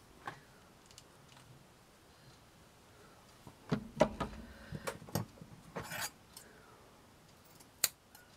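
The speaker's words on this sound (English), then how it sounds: "I can trim all the excess off." Scissors trimming excess strips off a handmade crochet hook holder: a few faint snips early, then a cluster of close crisp cuts and rustling of material in the middle, with one last sharp snip near the end.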